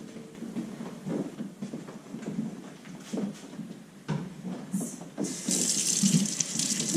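Water runs from a tap over tubing being rinsed for sanitizing while making blackberry mead, a close, continuous splashing and gurgling that swells louder and brighter toward the end.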